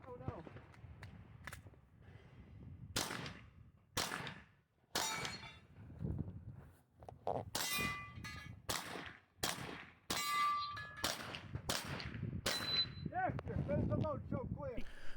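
Rapid gunshots ring out one after another at a competitive shooting match stage, many shots clanging off steel targets in quick irregular bursts, loud and close, with some talking in between.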